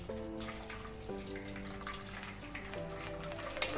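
Hot water is poured off to one side from boiled shevaya vermicelli while making Khandeshi-style aamras shevaya. A soft, steady splashing trickle runs beneath gentle background music.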